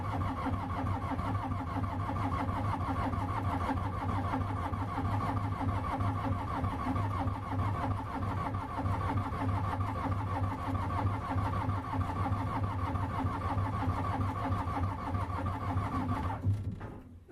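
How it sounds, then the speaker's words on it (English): An old diesel engine in a freezing-cold barn cranks and then starts, settling into a loud, steady rattling idle that runs nearly the whole time before cutting off at the end. "I doubt this thing will start without some diesel engine crack,"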